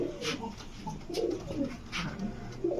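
A domestic pigeon coos in soft, low, rolling calls, repeated several times close by, with faint background noise and no talk.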